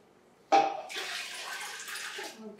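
Apple cider vinegar pours into a measuring cup in a kitchen, a soft splashing stream that starts abruptly and runs on steadily for about two seconds, fairly quiet and close.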